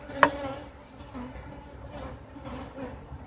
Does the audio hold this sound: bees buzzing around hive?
yes